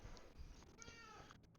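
A pet cat gives a faint meow, heard once or twice close to the microphone over a low steady background hum.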